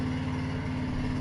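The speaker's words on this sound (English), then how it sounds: "You might hear a lawnmower running in the background." A lawnmower drones steadily in the background, a constant low engine hum with an even tone that stays level and unbroken throughout, somewhat distant and with no voices over it.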